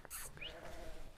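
Sheep bleating close by on a farm with young lambs, a single wavering bleat rising and falling over a moment of soft background rustle.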